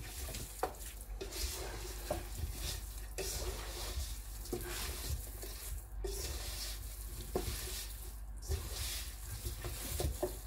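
Chicken pieces coated in spices for a grilled chicken dish being mixed vigorously by hand, giving wet squelching and slapping sounds in an irregular rhythm, close and fairly quiet, with no speech.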